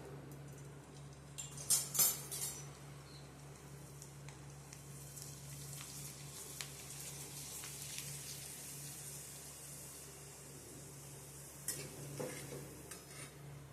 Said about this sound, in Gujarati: હવે આપણે પાપડ તળીશું.